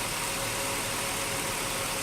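A 2003 Ford Taurus idles after a cold start, a steady, even engine hum heard up close with no voices.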